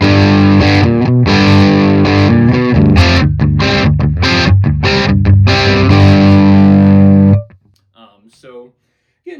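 Heavily distorted high-gain metal guitar through an Engl Fireball 25 amp head with high-output pickups, gain pushed up, playing loud chugging riffs and chords for about seven seconds before cutting off, followed by brief quiet talk.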